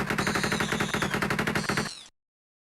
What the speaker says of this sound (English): Considering it's like an assault rifle of some kind.